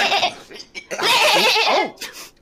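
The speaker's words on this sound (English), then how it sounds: "Was that a sheep over there?" Sheep bleating in a short wavering call, fairly close and loud, with a shorter bleat trailing after a pause and no talk over it.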